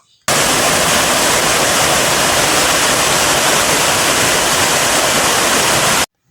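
A forest waterfall roars as a loud, dense, unbroken wash of falling water that fills the whole span from start to finish.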